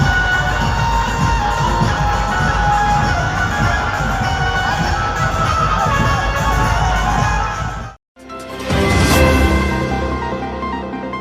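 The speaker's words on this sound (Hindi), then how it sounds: "इस मौके पर श्रद्धालुओं की भारी भीड़ सड़क पर एकत्रित थी।" A large crowd of devotees gathers on a road during a Jamara procession, where women carry jamara on their heads. The crowd noise is loud and dense, with shouting and cheering, breaks off briefly and then resumes.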